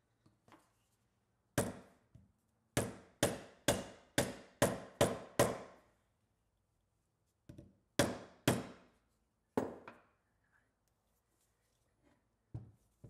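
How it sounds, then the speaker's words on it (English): A rubber mallet tapping the end caps of a 1934 electric motor, sharp knocks arriving in two quick rhythmic bursts of about eight and three blows, then a few lighter taps after a pause, close and alone. "little tapping with a rubber mallet until I see the gap starting to widen there"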